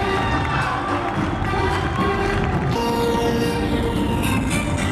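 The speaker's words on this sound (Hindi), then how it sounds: "तालियों की आवाज की गड़गड़ाहट कम ना हो" A crowd cheers and applauds for the company CEO and managing director at a corporate event. The roar is loud and continuous, with whoops and shouts layered over steady clapping throughout.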